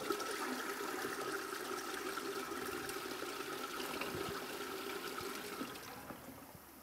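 A toilet cistern flushes with a steady, close rush of water during a tank repair and check, the gushing slowly tapering toward a softer trickle at the end.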